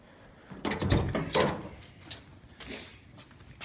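Old car door on an 86 El Camino being handled, a few clunks and metallic rattles of the rusty door moving and latching, fairly quiet and close, with no talk.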